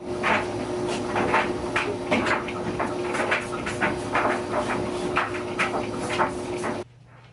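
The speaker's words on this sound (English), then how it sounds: "That's just my washer and dryer going off" A washer and dryer running nearby: a steady mechanical rumble with a constant hum and rhythmic clunking and clicking, cutting off abruptly near the end.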